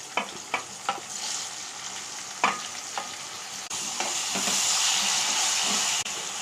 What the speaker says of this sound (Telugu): వీటన్నిటిని మెత్తగా ఆయిల్లో మగ్గేటట్లు ఫ్రై చేసుకోవాలి